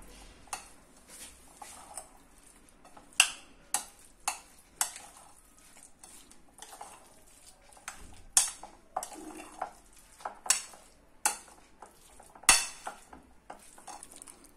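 A salad dressed with vinegar is tossed in a bowl, with irregular clinks and scrapes of a utensil against the bowl in quick bursts separated by brief quiet pauses.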